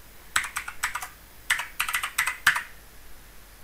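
Fingers tap on a computer keyboard in quick bursts of clicks, two short runs of keystrokes separated by a brief pause, close and crisp with no voices.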